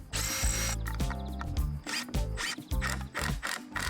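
A power drill drives screws during a van dry-space build, its whine rising and stopping in several short bursts with sharp clicks between them.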